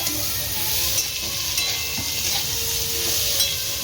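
Ghee sizzling steadily in a pan while being stirred, a continuous bright hiss with occasional soft scrapes, close and fairly loud with no talking.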